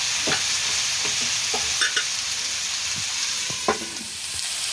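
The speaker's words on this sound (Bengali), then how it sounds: "লঙ্কা কুচি পেঁয়াজ কুচিটা দিয়ে দিয়েছি, আর নাড়াচাড়া করে ভেজে নেব সুন্দর করে।" Chopped chili and onion sizzle steadily in a hot pan, with a spatula scraping and stirring through them in short, irregular strokes, loud and close.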